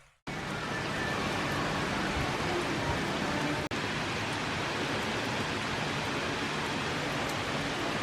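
Dense, steady heavy rain pours down in South Ayrshire, Scotland, a continuous broad hiss, briefly interrupted once, with no voices.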